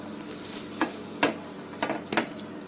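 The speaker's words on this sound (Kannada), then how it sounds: "ಮತ್ತೆ ಚಂದ ಮಾಡಿ ಫ್ರೈ ಆಗಲಿ" Bread pakora fries in oil with a soft steady sizzle, punctuated by a few sharp clinks and scrapes from a turning utensil, close and moderate in level.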